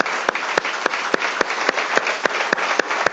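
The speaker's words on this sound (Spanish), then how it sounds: "démosle un aplauso al Señor" A church congregation claps together in steady, dense applause, loud and close, with a few sharper individual claps standing out through the continuous patter and no voices over it.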